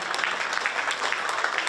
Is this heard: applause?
yes